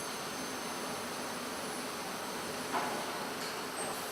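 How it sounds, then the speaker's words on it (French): An industrial laser cutting machine works through parts, a steady loud hiss and whine filling the space with a faint clack partway through. "le laser se coupe entre chaque trajet et il se rallume dès qu'il arrive sur une nouvelle pièce"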